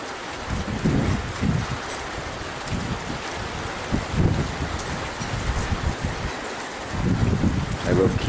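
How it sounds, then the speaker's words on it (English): Night thunderstorm in Cyprus with steady rain and gusting wind, low rumbles of thunder rolling in and out around the middle and end, moderately loud and continuous, with a voice speaking occasionally over it. "The thunder was really loud a moment ago."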